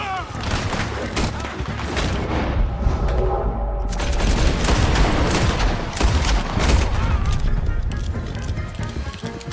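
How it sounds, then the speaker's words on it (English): Shootout in Red Dead Redemption 2: a dense, loud barrage of overlapping gunshots and booming reports rolls on for several seconds, with hoofbeats mixed in and no voices. "Open fire on him!"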